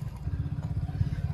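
A Royal Enfield Bullet motorcycle idling and thumping as it rides over big rocks off-road, its low, pulsing single-cylinder beat close and steady throughout.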